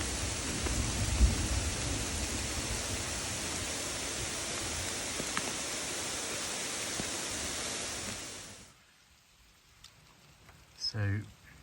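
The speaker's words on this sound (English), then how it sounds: "There's a hailstorm." A hailstorm on the GR10 trail in the Pyrenees makes a dense, loud, steady roar of hard pellets for about eight seconds, then cuts out to quiet background with a brief close sound near the end.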